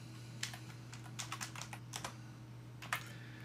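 Quiet, close keystrokes on a computer keyboard come in short bursts with brief pauses as a new name is typed, over a low steady electrical hum.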